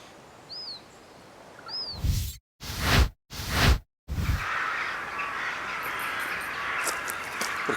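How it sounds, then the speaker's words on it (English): Crows cawing over Northey Lake at dawn. A couple of thin calls come early, then three loud, rough bursts follow, all over a steady outdoor background hiss. "The crows are awake anyway"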